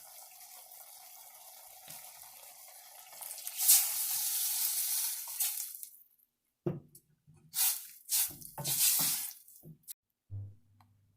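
Tamarind water hits a hot pan of okra and green pepper sambar with a loud, hissing sizzle that swells and fades, followed by a few sharp bursts of spitting and clattering.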